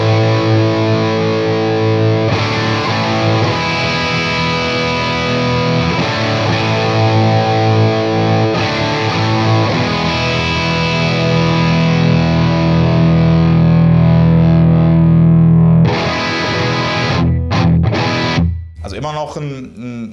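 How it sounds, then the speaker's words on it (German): Electric guitar played through a Victory Sheriff 44 amplifier, first channel with the gain cranked, giving articulate overdrive distortion. Loud, close sustained chords and ringing notes run continuously for about eighteen seconds, then break into a few choppy stabs and a fading end. "Also immer noch ein Overdrive mit einer schön artikulierten Verzerrung, da mulmt oder matscht jetzt nichts."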